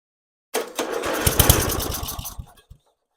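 A 30-year-old lawn mower engine cranks and fires, catching into a loud, rough, sputtering run for about two seconds before cutting out, with irregular pops and knocks throughout, heard close up and alone.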